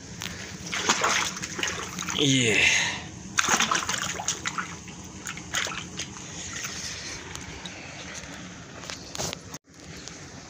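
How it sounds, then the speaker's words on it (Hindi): Fresh radish with its leaves removed is swished and rinsed by hand in water outdoors in a farm field, giving steady sloshing and splashing throughout, with a brief voice near the start. "इसके बाद इसको धोते हैं पानी में।"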